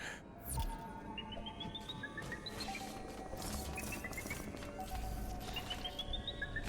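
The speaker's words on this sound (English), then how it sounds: "you hear the birds chirping" Several faint, high chirps rise in short series over a steady background hiss, scattered across the clip at a distance.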